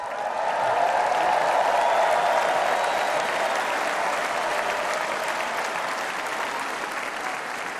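Convention crowd at the Republican National Convention applauding, a dense, loud, sustained roar of clapping from a huge audience that holds steady across the whole stretch.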